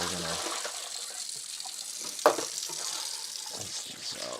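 Running tap water pours over shrimp being rinsed in a kitchen sink for a Brazilian moqueca, a steady close gush and splash with a brief clatter partway through, while a voice speaks softly underneath.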